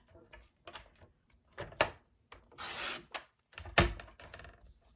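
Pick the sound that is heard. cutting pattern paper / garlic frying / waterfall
cutting pattern paper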